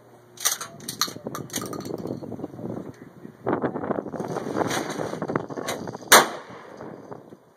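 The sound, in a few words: shotgun pumped and fired at clay targets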